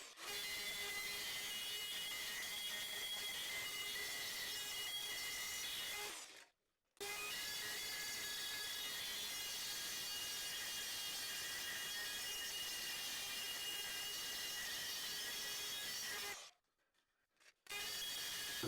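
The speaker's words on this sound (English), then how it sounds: "I need to grind some more of that off because there's a lip there." Steady abrasive grinding removes a lip from a thin wet bar sink, running continuously with two short breaks, a rough hiss that stays even and fairly faint.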